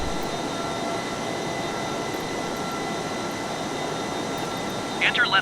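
An experimental aircraft descending toward an airport, heard from inside as a steady, droning engine roar with a faint whine, constant and close throughout.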